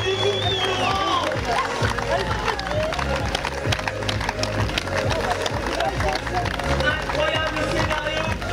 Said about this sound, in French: Applaudissements pour Laurent.